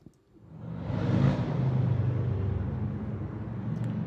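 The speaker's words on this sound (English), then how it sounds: "that sounds good. That's probably a bigger Harley." A deep Harley motorcycle engine, likely a bigger model, rumbles steadily after a brief start, a low continuous growl that stays loud and close.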